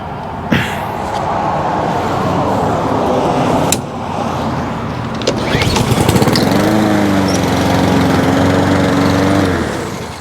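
A small lawn mower engine runs steadily and close, with a few sharp clanks along the way, then its pitch surges and wavers near the end before it fades out.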